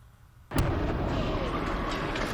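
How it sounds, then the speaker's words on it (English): Manhole explosion in New York caused by an electrical short from salt and melting snow after a blizzard: a sudden loud boom after quiet, followed by a sustained roaring, crackling rush. "they're blaming this explosion on weather"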